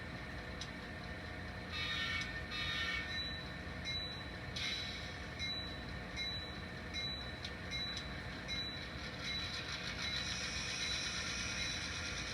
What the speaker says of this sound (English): Now I put the worst case scenario, GP40, actually a GP38-2, and run him.